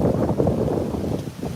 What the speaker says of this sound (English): Lisa, is it too windy?